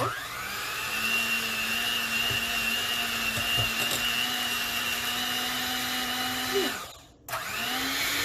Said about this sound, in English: we're gonna use the electric mixer to beat these together.